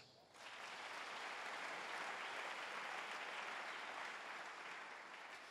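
A church congregation bursts into sustained applause during a French-language sermon, a dense steady clapping that starts abruptly and holds loud throughout with no clear voices.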